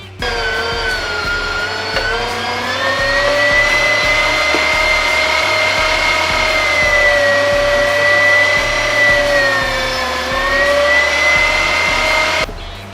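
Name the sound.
electric meat grinder grinding sausage meat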